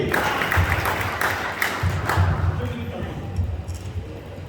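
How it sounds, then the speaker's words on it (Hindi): An audience at a kavi sammelan poetry gathering in Jalna applauds steadily throughout, a dense wash of clapping with voices mixed in beneath it. "जोरदार ताली बजाइए"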